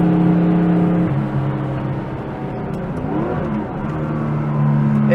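Porsche 911 with a mechanical fuel injection engine, built as a 1972 RSR-inspired road racer, revs loudly and steadily up close with a rasping exhaust note, pitch rising and dipping as the throttle is worked.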